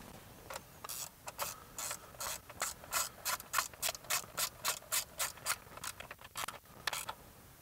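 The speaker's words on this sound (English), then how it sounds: "we'll have to tighten up those two screws that we loosened earlier" A ratchet clicks in a fast, steady rhythm of short bursts, close and clear, while screws are tightened on the cruise control of a 2008 Toyota Tacoma.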